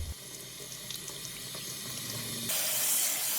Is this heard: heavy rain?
no